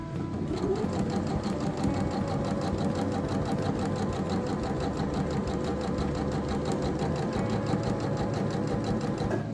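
Sewing machine stitching fabric for a drawstring bag, a fast steady mechanical whir and rapid needle patter running continuously at close range, with no talking.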